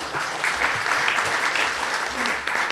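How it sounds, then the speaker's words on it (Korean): Audience applause fills the room at the close of a forum, a steady sustained clapping from many hands that holds at even loudness throughout, with faint murmuring underneath. "오늘 좋은 발표를 해주신 분들께 다시 한번 큰 박수 부탁드립니다"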